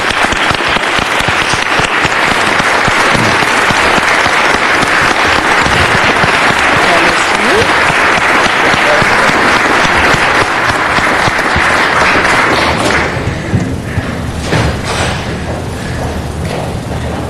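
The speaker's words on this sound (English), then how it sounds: "join in giving her a heartfelt round of applause that is well deserved" A room full of people at a city council meeting applauds loudly and continuously, and the clapping thins out and fades toward the end.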